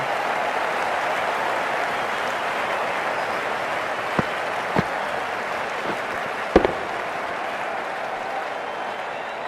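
Cricket crowd at a Hundred match between Trent Rockets and Manchester Originals cheering and applauding a four-run boundary, a steady dense roar of clapping with a few sharp louder claps and shouts standing out.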